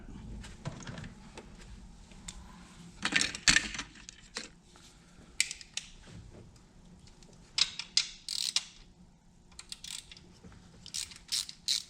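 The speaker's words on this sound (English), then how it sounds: "I'm gonna take this little 10 millimeter here loose" A ratchet loosens a 10 millimeter bolt on a 2016 Ford Explorer Sport, with bursts of rapid clicking pawl ticks separated by pauses, close and fairly crisp.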